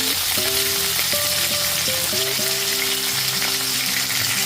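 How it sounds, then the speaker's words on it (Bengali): A fish head fries in hot oil over a medium gas flame for muri ghonto, giving a steady, loud sizzle throughout. Sharp crackles and spatters rise above it, and no one speaks. "গ্যাসের ফ্লেমটা মিডিয়ামে রেখে মাছের মাথাটা উল্টে পাল্টে খুব ভালো মতো ভেজে নিতে হবে।"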